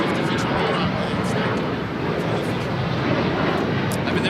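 An aircraft takes off from runway 25 right at LAX, a continuous loud, broadband engine roar with no break, and voices faintly mixed in.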